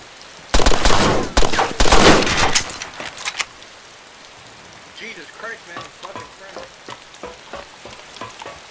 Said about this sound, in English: What was with that gunfire then, man?